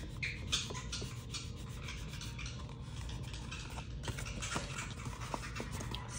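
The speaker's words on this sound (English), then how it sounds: "I'm just gonna kind of burnish them in a little bit more" Rubbing and burnishing a paper doily piece down onto a handbag, a soft close rasping friction in repeated short strokes, steady and fairly quiet with no talk.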